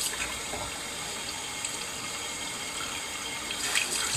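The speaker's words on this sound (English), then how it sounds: "I'm letting the water run on that" Water runs steadily from a tap over a jacket, splashing continuously onto the fabric in a constant hiss with no talking.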